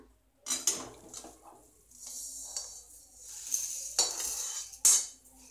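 Roasted urad dal is tipped from a pan onto chana dal, with metal scraping and clinks and short bursts of rattling, pouring grains between quieter pauses.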